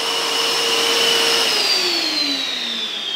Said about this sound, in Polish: I mamy odkurzacz.